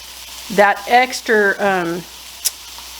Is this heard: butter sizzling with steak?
yes